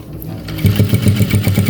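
A sewing machine runs in a steady fast chatter while stitching a uniform collar, close and loud, starting after a brief quieter moment and continuing evenly to the end.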